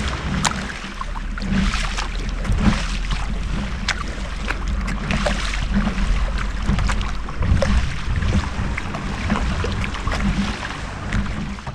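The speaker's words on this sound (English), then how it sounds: "There's a boat coming." A boat passing on the water along the Cornwall coast, heard from a kayak as a continuous low engine rumble with wind and water wash throughout, fairly steady in level and without speech.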